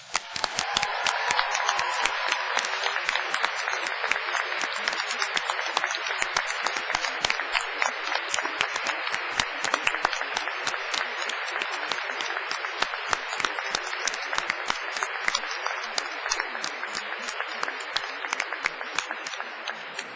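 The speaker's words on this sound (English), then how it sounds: "giving them an enthusiastic round of applause and a big cheer" A large graduation ceremony audience at Cardiff University gives sustained, dense applause with some cheering, loud and steady throughout with many overlapping claps.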